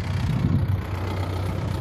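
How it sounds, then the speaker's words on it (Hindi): A tractor sowing soybeans in a farm field runs with a steady low engine rumble, close and continuous with no pauses or speech. "ट्रैक्टर हमारे यहाँ चल रहा"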